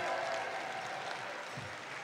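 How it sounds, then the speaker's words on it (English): Crowd applause at the 2016 Gathering of Nations Pow Wow, a faint, distant wash of clapping heard briefly in a large venue. "let's give them a big round of applause so they can hear it"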